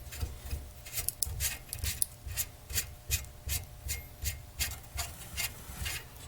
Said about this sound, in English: We're going to go ahead and put this lock nut that is used with the Miklik comp